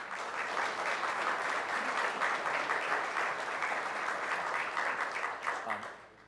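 Steady, dense applause from an audience at a citizen meeting, filling the room evenly before tapering off at the end.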